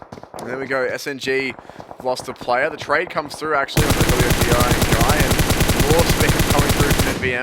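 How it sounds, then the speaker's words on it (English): Gunfire in a PUBG Mobile esports match, distant shots followed by a dense run of rapid popping bursts, all under a caster's fast commentary. "You can hear the gunfire in the background popping off like firecrackers."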